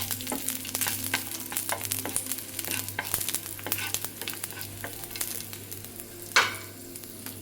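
Garlic sautéing in a pan for a steamed suran starter, a steady close sizzle with frequent stirring scrapes and one sharper clatter near the end, no voices.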